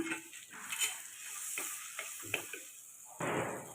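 Curry leaves and cumin sizzle in hot oil while frying for a Telangana-style stuffed brinjal curry, a steady hiss with brief stirring clatters and a louder surge of crackling near the end.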